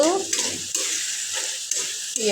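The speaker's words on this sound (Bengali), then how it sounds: "এখন আমাদের জন্য এই যে চিংড়ি মাছ, বড় বড় যদিও বোঝা যাচ্ছে না, চিংড়ি মাছ রান্না করছি" Large shrimp fry in a pan with a dense, loud sizzle, broken by a few scraping stirs of a utensil, close up with no speech.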